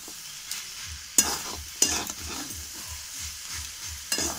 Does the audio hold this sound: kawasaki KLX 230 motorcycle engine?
no